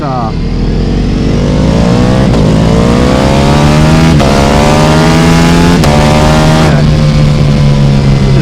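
A Ducati Pikes Peak motorcycle accelerating hard on a 0-60 mph run, loud engine revving up through rising pitch with several quick gear shifts, close and continuous.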